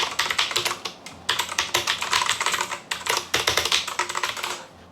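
Fast typing on an Ant Esports MK1000 TKL mechanical keyboard with blue switches, loud clicky keystrokes in rapid bursts separated by short pauses, close and alone.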